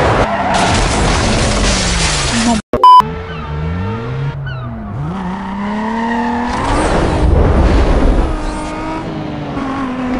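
Racing car engines in Need for Speed Most Wanted, loud revving with rising and falling pitch, tire skids and a sudden impact, alone without talk.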